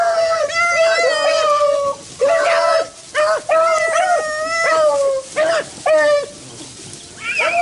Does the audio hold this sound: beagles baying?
yes